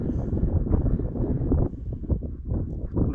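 Wind gusting across an open hilltop moor at night, buffeting the microphone with steady low rumbling roar and fluttering bursts, no voices.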